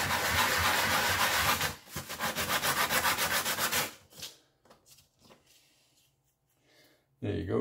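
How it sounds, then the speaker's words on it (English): 80 grit sandpaper rubbed on a very flat surface in quick back-and-forth rasping strokes, loud and close for about four seconds, then a few faint scrapes and near quiet before another burst of sanding. "I'm just going to keep sanding that to get that off"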